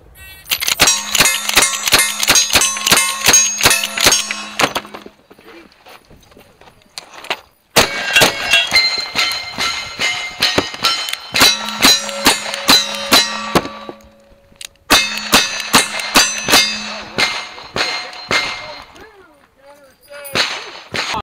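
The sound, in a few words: rifle shots hitting targets in a shooting match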